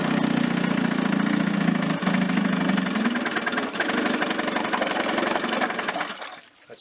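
A rebuilt 7.5 HP Elgin engine runs steadily and loudly up close with a low droning roar and rapid firing pulses, then cuts out and fades near the end.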